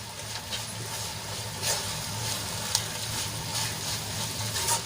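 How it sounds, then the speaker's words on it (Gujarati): Okra cooks with masala in a pan over a low flame, making a steady, moderate frying sizzle broken by a few light scraping and stirring ticks and one sharp click. "મસાલો સરસ રીતે ભીંડામાં આપણે મિક્સ કરી લઈશું।"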